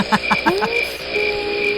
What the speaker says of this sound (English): Oh my God, there's crickets in here.